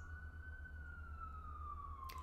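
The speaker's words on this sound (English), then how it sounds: "I'm gonna wait for that siren again" An emergency siren passes outside near a firehouse as a faint, distant single tone that slowly falls in pitch over a low steady hum, with no voices.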